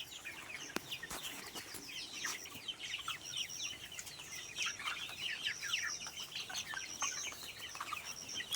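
Black Australorp chickens in a poultry shed, many soft clucks and chirps overlapping in a steady, fairly quiet flock murmur with occasional wing flaps.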